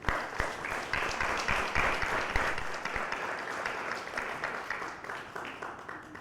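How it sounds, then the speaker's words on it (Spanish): An audience at a panel session on implementing the Rome Statute claps steadily for several seconds, a dense patter of hands that stays even and then eases slightly toward the end. "vamos a darle la bienvenida a Michelle Reyes con un fuerte aplauso"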